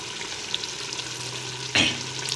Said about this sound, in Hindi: ऑयल डाल के इसकी अच्छी तरह भुनाई करनी है हमने।